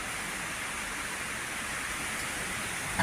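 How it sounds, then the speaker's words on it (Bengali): Steady rain of a storm falling outside, a dense continuous hiss with no breaks or distinct drops, even and constant in level throughout. "বাইরে একবারে ঝড় বৃষ্টি"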